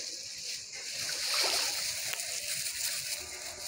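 Legs wade through knee-deep floodwater at night, producing faint sloshing and a soft splash midway, with quiet murmuring in the background.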